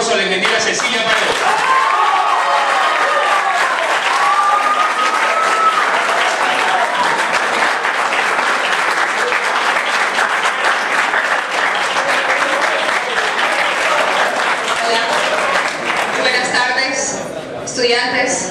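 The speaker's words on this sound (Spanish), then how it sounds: "Recibamos por favor con un afectuoso aplauso a la ingeniera Cecilia Paredes." An audience at a university forum for rector and vice-rector candidates welcomes a speaker with sustained, dense applause that stays loud and continuous, with voices and cheers mixed in and tapering slightly near the end.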